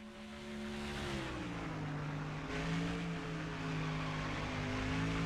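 Simulated NASCAR stock car engines roar continuously in the NASCAR Thunder 04 video game, a steady loud drone with rising and falling pitch as cars pull hard off a corner, several engines layered together.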